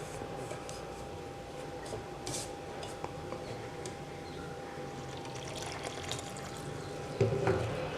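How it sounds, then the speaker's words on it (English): Cold water is poured into a dough mixture, giving a faint, steady trickle against low background noise, with a brief louder clatter near the end. "So now I'm going to start adding water. I'm using cold water."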